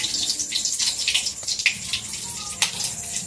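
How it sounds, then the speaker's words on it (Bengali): Bay leaves hit hot oil in a wok and set off a steady, close crackling sizzle. Sharper pops and spatters break through the hiss now and then. "এবার দিয়ে দিয়েছি কটা তেজপাতা"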